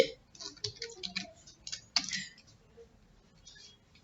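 Fingers type Python code on a computer keyboard, giving quick irregular clusters of close, light key clicks with short pauses between bursts.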